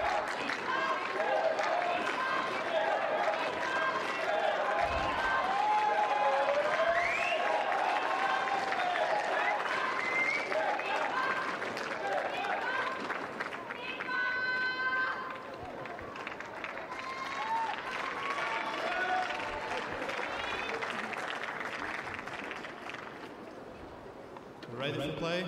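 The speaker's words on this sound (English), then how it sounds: "can hear the French supporters in the crowd there chanting for Stéphane Houdet" French and Japanese supporters in a lively crowd at a London Paralympic wheelchair tennis match chant and clap in rhythmic bursts, a continuous crowd roar with rising cheers, fading slightly near the end.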